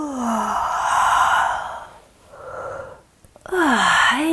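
Someone yawns while stretching: long, breathy, drawn-out yawns with a rising and falling voiced tone, a short quiet pause, then another yawn begins, close and clear with no talk.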